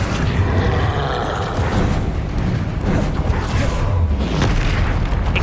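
Confringo blasting spells booming in a Harry Potter video game, a dense, continuous roar of loud explosive bursts with no gaps.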